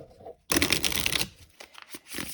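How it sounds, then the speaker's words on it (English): Tarot cards shuffled by hand in a dense riffling burst lasting under a second, followed by softer scattered card taps and shuffling sounds, close up with no talking. "Okay, we'll do one last shuffle here"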